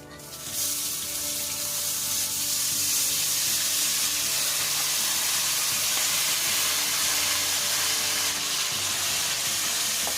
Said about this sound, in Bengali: চালটা দেওয়ার পর একটু ভেজে নেবো